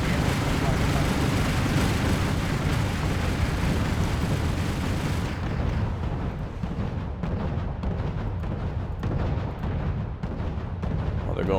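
Rocket fire and explosions in the war video game Wargame: European Escalation, with Soviet T-34 tanks pushing forward. Dense rumbling salvos and booms roll on continuously, loud and close, with the high end dropping away halfway through.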